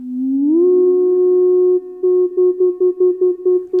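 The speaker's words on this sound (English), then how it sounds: "Now if I move left, you get that sine wave" A pure, steady electronic sine wave tone from an Erica Synths Black Joystick 2 synthesizer controller glides upward, then holds before breaking into rapid rhythmic pulses near the end.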